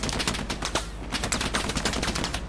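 An MG 42 machine gun firing on Utah Beach in Hell Let Loose, a rapid, continuous burst of loud, close shots in a fast rattling rhythm.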